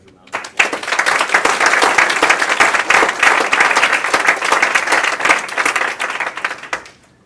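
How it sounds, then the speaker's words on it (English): An audience at a school presentation bursts into sustained applause, dense and loud for several seconds before tapering off, with a few voices mixed into the clapping. "I think that deserves a round of applause"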